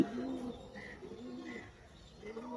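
Tournament pigeons in a loft coo softly, with several low, rounded coos spread across a quiet background.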